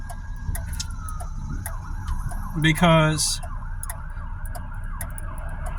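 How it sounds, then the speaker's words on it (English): A faint ambulance siren rises and falls in the distance over traffic noise, with a brief horn-like blast in the middle and someone speaking a word. "an ambulance is going to come"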